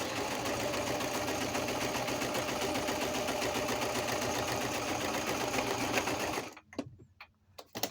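A sewing machine stitches through paper pages with a fast, even mechanical whirr that runs continuously, then stops abruptly near the end, leaving a few faint clicks and handling noises.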